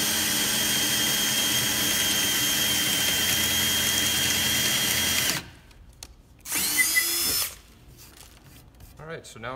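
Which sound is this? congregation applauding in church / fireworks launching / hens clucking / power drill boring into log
power drill boring into log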